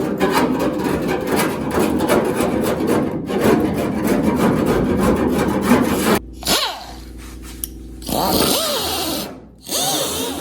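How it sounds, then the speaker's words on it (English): Power tool scraping and abrading residue off the hood of a C10 show truck, loud continuous grinding for about six seconds, then shorter bursts that spin up and down with brief pauses between. "See if we can scrape it off first."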